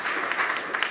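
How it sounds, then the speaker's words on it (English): An audience at an expert panel on food and agriculture applauds, a dense, even wash of clapping from a crowded room, brief and fairly loud. "Please give a round of applause to William Sutton and"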